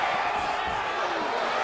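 Simulated arena crowd at a UFC fight between Michael Chandler and Paddy Pimblett, a dense continuous roar of reacting spectators with no clear peaks, steady and loud throughout.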